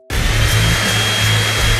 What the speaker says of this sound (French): il suffit de le souffler avec une sèche-cheveux